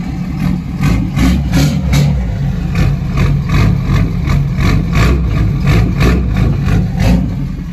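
A tuned, deleted Alumiduty pickup engine on a 12-inch lift rumbles loudly up close, its heavy idle rising and falling in a steady pulsing rhythm with repeated light revs.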